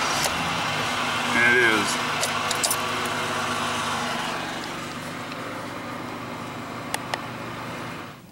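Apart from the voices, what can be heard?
truck engine starting up and idling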